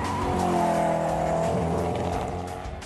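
A Swedish hypercar, the lightest fully road-legal production hypercar, drives fast with a loud, sustained engine roar and rising gear tones. There is some tyre squeal, and the sound fades slightly toward the end.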